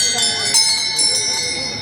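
Small handmade cast bells ring close and bright, several overlapping tinkling strikes with sustained metallic tones over a couple of seconds.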